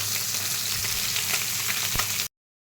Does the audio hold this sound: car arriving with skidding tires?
no